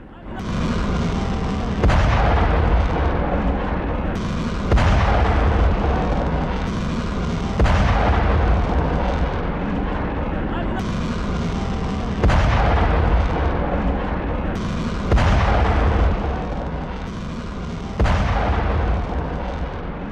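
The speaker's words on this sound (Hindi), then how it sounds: "इस दौरान यूएस बेस पर मिसाइलें दागी गई हैं।" Missile strikes and explosions hit a US military base, heard as a string of heavy booming blasts every few seconds over a continuous low rumble, loud and somewhat distant.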